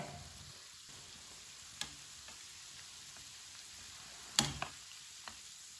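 Kebabs frying in oil over a medium flame give a soft, steady sizzle close by. A few sharp clicks or ticks break through the sizzle, and no one speaks.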